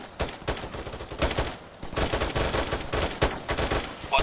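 Rapid automatic gunfire and single shots rattle loudly and almost without pause in a team shooter video game, with short bursts overlapping and a brief lull near the middle.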